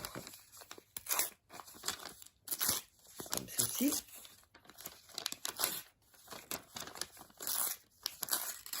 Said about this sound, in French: On prend le morceau de papier et on va couper les bords.